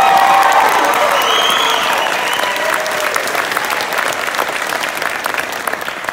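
A crowd applauds and cheers a 2022 6A state champion high school jazz band, loud sustained clapping with whoops and shouts early on that settle into steady applause.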